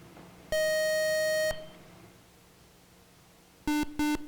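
Game show buzzers being cleared: one long steady electronic tone lasting about a second, then two short beeps at a lower pitch a few seconds later, clear and close with no talking.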